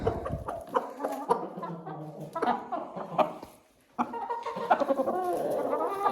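Two fighting roosters cluck and squawk loudly and close by in a hen enclosure, in repeated harsh bursts with a short pause midway.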